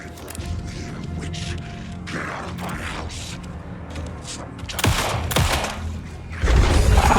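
Gunfire from the horror video game Alan Wake 2 cracks out as a few sharp shots amid mechanical game sounds, while someone talks over the action.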